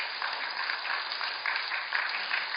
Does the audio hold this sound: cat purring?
no